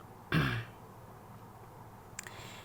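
A single short throat-clearing cough up close, followed by quiet room tone and a faint click.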